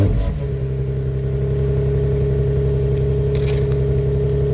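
An Infiniti car engine, after treatment with engine flush additives, fires up and settles into a steady, loud idle close by with a low rumble, a few faint clicks above it.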